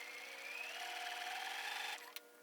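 Sewing machine running steadily while stitching quilt block pieces for a square-on-point block, a continuous close whir that stops near the end with a brief click.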